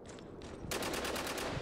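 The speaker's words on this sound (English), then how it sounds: "Heard shooting." Gunfire in the shooter game Spec Ops: The Line: a distant crackle of shots, then a rapid, evenly spaced automatic burst that grows louder and carries on steadily, with no talking over it.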